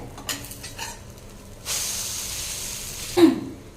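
An okra egg masala omelette flipped in the pan: soft scraping, then a burst of loud hissing sizzle that holds steady before a clatter of the pan near the end.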